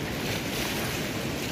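The flooded Narayani river rushes past in a steady, dense roar of moving water, heard close and outdoors in a brief burst with some wind buffeting and no talking.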